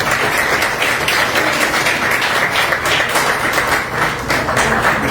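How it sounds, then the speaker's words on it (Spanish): Loud, dense clapping from an audience at a literary discussion event, greeting a speaker introduced to the room; continuous applause filling the whole stretch without pause or voices. "Un fuerte aplauso para Sarita Soria."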